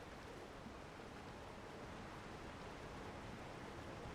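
Steady broadband rush of a waterfall tumbling over rocks in the video game Elden Ring Shadow of the Erdtree, a constant wash of falling water with no breaks or other sounds.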